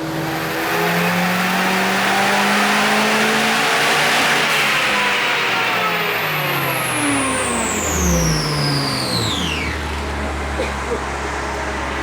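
Turbocharged stock Honda D16 engine on a dyno in a fifth-gear pull, revving loudly and steadily climbing in pitch for about ten seconds before the throttle lifts, with turbo whine rising above the drone.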